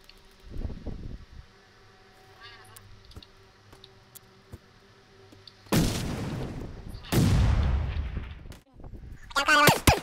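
Gunfire in the PUBG video game on PS4, two heavy bursts of shots ringing out close and loud, followed by a cluster of sharper cracks, with a brief voice early on and quiet clicking in between.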